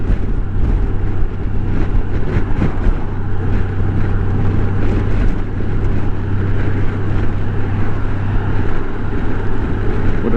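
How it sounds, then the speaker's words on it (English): Steady, loud wind roar buffets the microphone while riding a motorcycle near Lake Ray Roberts State Park. The rush is constant and close, broken only by slight gust swells, and nobody talks over it. "I mean, it doesn't bother me, the wind noise."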